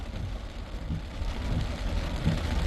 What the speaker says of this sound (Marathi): तर संततधार पाऊस अजूनही सुरूच आहे.